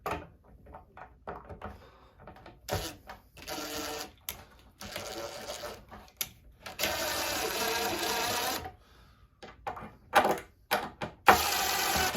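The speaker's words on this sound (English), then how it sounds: "The screws are screwed into the pre-drilled holes." Screws driven by a power driver into pre-drilled holes while a wooden nativity manger is assembled, heard as several bursts of whirring motor noise of varying length separated by short pauses and clicks.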